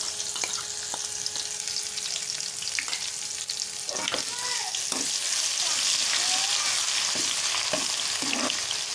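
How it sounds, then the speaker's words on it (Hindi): Garlic-ginger paste with cumin fries in hot oil, a steady close sizzle with occasional spoon scrapes and clinks as it is stirred. "और इसको 3 से 4 मिनट अच्छे से फ्राई करेंगे।"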